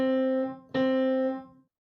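Middle C played on a piano for a beginner warm-up: two clear, evenly struck notes ring out close and alone, the second sustaining before fading to silence.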